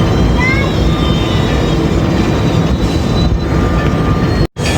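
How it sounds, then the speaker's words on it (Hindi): Passenger train running at speed after leaving Mehrabpur, heard from on board; a loud, continuous rumble and rattle of wheels on track with faint squeals, ending in a sudden brief cut. "तो मेहराबपुर से निकल रही जी हमारी ट्रेन"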